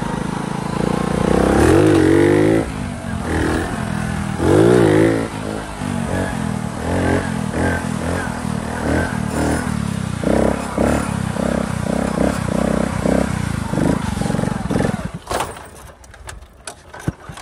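A Honda CD70 motorcycle engine revs hard and fluctuates close by during a wheelie, throttle rising and falling repeatedly before cutting off near the end.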